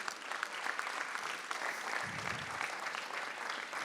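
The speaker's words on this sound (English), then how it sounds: "Give them a round of applause for that, please." Applause at a London event for young people, thanking the staff for a free venue; steady, dense clapping from a crowd, quiet and distant-sounding, with a brief low rumble partway through.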